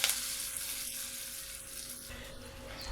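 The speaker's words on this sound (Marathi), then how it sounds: "आता ही फोडणी आपण त्या वाटणावरती ओतूया" Hot oil tempering of mustard seeds, cumin, asafoetida, curry leaves and turmeric poured over a ground raw-mango dal paste, giving a steady close-up hiss of sizzling that shifts slightly partway through.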